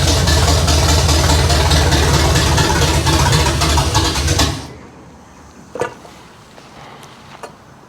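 A 1968 Camaro engine, running again after sitting for years, rumbles loud and steady close by for about four and a half seconds, then cuts off, leaving quiet with a couple of faint clicks.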